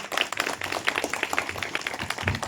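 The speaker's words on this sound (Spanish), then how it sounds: "Un aplauso, por favor, para recibirlo" An audience applauds to welcome a speaker at a civic cultural event in García de la Cadena, Zacatecas; close, brisk, uneven clapping from a modest crowd throughout.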